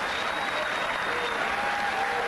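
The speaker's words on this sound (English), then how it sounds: "Your people will clap bloody anything, won't they?" An audience at a televised talk show with Christopher Hitchens and Bill Maher claps steadily and loudly, a dense, even wash of applause with no break.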